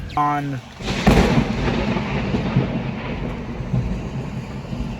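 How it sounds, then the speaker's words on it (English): Thunder from a nearby lightning strike during a tornado storm at a homestead breaks in as a loud crack, then rolls into a long rumble over steady rain, after a brief voice at the start. "A bolt of lightning literally just went down right in front of me."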